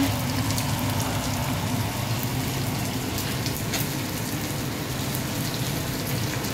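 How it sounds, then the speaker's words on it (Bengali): Radish frying in a pan in a home kitchen gives a steady, fairly loud crackling sizzle that holds evenly from start to finish without any talk. "মূলা ভাজি হচ্ছে।"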